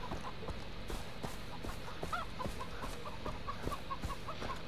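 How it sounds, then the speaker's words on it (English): Chicken clucking in the Far Cry 3 video game, a series of short, repeated clucks over a steady game ambience with footsteps and other in-game sounds, no talking. "Get out of my way, chicken."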